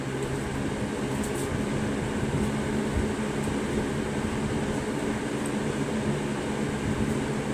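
Two Lasko Premium 3723 box fans run on medium speed, a steady close whooshing hum with a low motor drone that holds level throughout.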